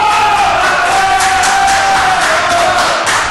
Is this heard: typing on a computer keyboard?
no